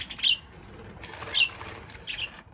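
Pet budgies indoors give three short, bright chirps spaced about a second apart, with soft wing flutters between them, close by and alone.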